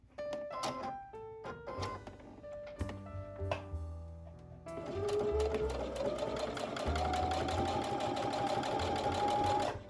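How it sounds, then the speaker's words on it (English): A home sewing machine stitches along the side of a fabric piece after cleaning and oiling, starting with a few short bursts and clicks, then settling into a steady, close, continuous mechanical whir. "let's just sew something really quickly."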